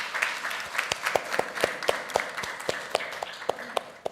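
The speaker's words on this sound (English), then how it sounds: "please give applause to Adam" Applause from a conference audience on the third day of a Europe and Mobilities event: a thin, moderate patter of individual claps with sharp separate strikes, steady across the stretch with no voices.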